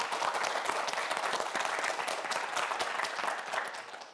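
Steady, dense studio audience applause on a televised student quiz show, many hands clapping evenly and fairly loudly throughout.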